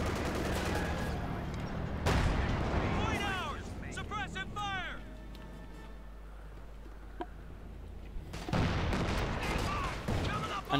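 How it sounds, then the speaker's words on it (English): A Panzer tank fires 75mm high-explosive rounds in the strategy game Company of Heroes 2, with sharp cannon blasts and battle noise mixed under steady commentary. "A Panzerkampfangfuhr already mobilised. And firing away there with 75mm high pistol rounds."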